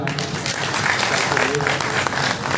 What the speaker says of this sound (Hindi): प्रेरणा के लिए एक जोरदार ताली